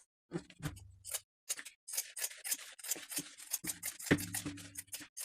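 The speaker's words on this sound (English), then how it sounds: "Trim the seams and top corners." Scissors trim fabric seams and corners in a quiet room, a close series of crisp, separate snips in an uneven rhythm with short pauses.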